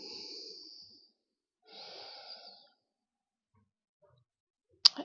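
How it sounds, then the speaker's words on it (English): Slow, deep breathing during a chair yoga practice: two long, soft breaths close to the microphone, separated by silence, then a brief sharp click near the end. "Taking 3 rounds of breath"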